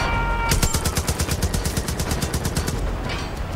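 Rapid automatic gunfire in Far Cry 5, a fast regular burst of loud shots running nearly the whole stretch, with a few single reports at the start.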